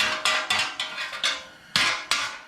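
Two hammers strike a car's bent core support on a Dodge SRT-4 as it is straightened, giving about seven sharp metallic blows at an irregular pace, close and loud, each ringing briefly.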